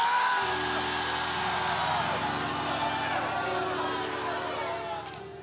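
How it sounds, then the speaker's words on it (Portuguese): A church congregation shouts loudly together during a Portuguese-language sermon, a dense, sustained roar of many voices that fills the space and fades slightly at the end. "mas grita alto. Grita!"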